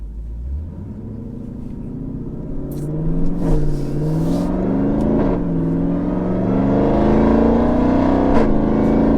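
A Jeep SRT Trackhawk accelerates hard at wide open throttle, its engine heard from inside as a loud, steady rumbling roar that climbs in pitch through the gears with short dips at the shifts.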